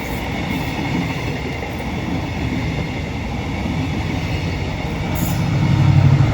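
Steady rumbling roar of a train running on rails, heard from inside a carriage, loud and continuous, building slightly toward the end.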